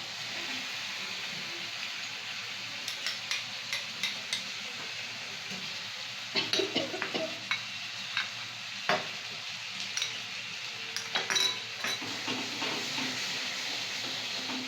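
Spice paste frying and sizzling in oil in a pan while cooking prawns with pointed gourd, with a steady hiss and sharper scraping stirs clustered in the second half.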